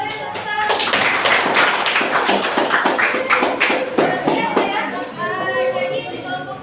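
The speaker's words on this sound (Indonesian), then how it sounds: "Kita beri tepuk tangan." Classroom applause during a group presentation in a teacher-training practicum exam, a steady patter of hand claps lasting several seconds and fading out near the end, with voices mixed in.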